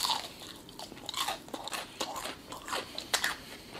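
Crunchy breaded Popeyes chicken nuggets being bitten and chewed up close, a quick series of crisp crunches and crackles in an irregular rhythm, loud and without any speech.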